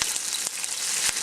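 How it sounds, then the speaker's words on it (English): Onions frying in a pan for chicken cacciatore give a steady, close, broadband sizzle with a few brief crackling bursts, with no talking. "the first thing you do is you fry up your onions"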